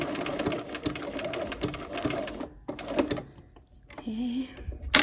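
A sewing machine runs a buttonhole stitch in quick mechanical bursts, pausing and restarting, with someone talking briefly between runs.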